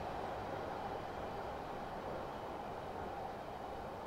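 A simulated Metropolitan Line underground train brakes into Croxley station. A steady, low rumble of rolling stock and traction holds evenly throughout at moderate level, with no voices.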